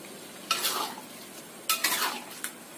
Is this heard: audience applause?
no